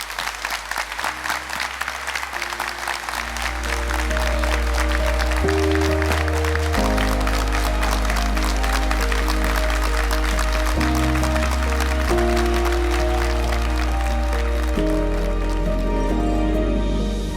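An audience applauds at a tribute ceremony in Les Ulis, a dense, sustained wash of clapping that swells and holds loud throughout, with music playing underneath.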